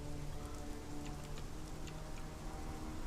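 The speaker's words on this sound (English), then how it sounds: "It is raining." Steady, moderate rain falls in the survival game Conan Exiles, a constant hiss of drops with faint ticking patter throughout and no voices.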